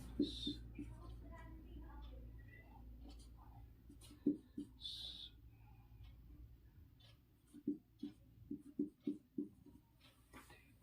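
Faint scratching and tapping of a pen writing out a maths solution on surds and indices, soft irregular strokes that grow into a cluster of quick taps toward the end, under a teacher's ongoing talk.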